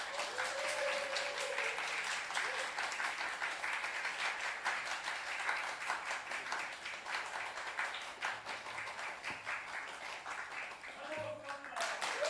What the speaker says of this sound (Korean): 태어나서 가장 크게 또 오래 박수를 받은 것 같습니다